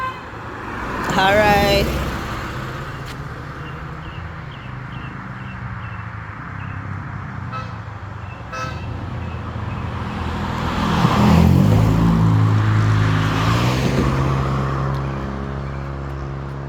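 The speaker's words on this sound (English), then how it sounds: "two vehicles pass me" Two vehicles pass by on a road in Jamaica, swelling loud and close then fading, with a brief honk near the start and a low rumbling engine; a voice speaks briefly over the steady outdoor background.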